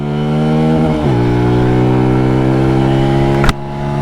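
Benelli Tornado Naked T125 motorcycle at full throttle, its single engine droning loud and close with a steady rising pitch, a quick drop and recovery at a gear shift, then a sharp click near the end.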